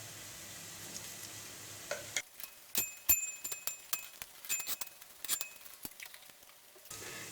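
Crushed chilli sautéing in a hot pan for an Idiyirachi minced meat fry, with a soft steady sizzle under sharp, irregular clinks and scrapes of a spoon stirring against the metal.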